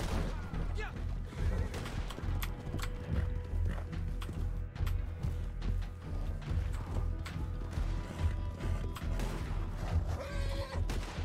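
Horse in the video game Red Dead Redemption 2, whinnying and neighing amid clattering hoofbeats and crashing game noise, loud and steady throughout, with a brief high-pitched whinny near the end.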